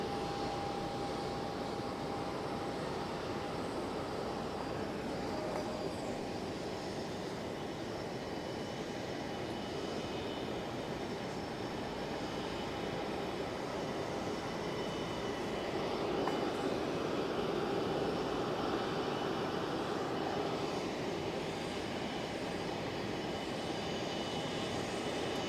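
Air Canada Airbus A330-300 airliner at Geneva Airport, a distant low continuous engine rumble that swells slightly midway, heard steady for a long stretch.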